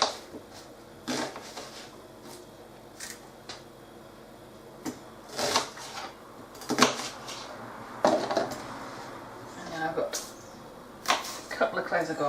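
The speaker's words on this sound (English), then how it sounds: "I'm just very roughly chopping onions." Onions being roughly chopped with a knife on a board, a series of irregular close knocks and thuds of the blade, some spaced out and some in quick clusters, over a faint steady background hum.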